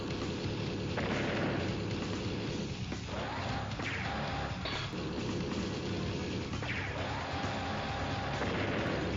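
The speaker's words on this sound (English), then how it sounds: "Something exploded." Explosion in Advance Wars rumbles as a heavy, continuous booming wash, dense and steady throughout with a few swelling bursts, alone without talk.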